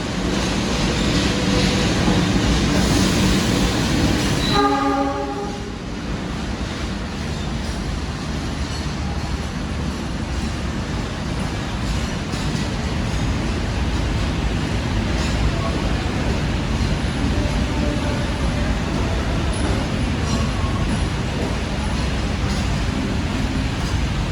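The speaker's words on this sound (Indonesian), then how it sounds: "ini di jalur 1 masuk kereta api Malabar keberangkatan pagi dari Bandung" Malabar passenger train out of Bandung pulls into platform 1 during a heavy downpour; a loud, steady rumble of wheels and rain fills the whole stretch, with a brief horn-like tone near the start before the sound settles into broad continuous noise.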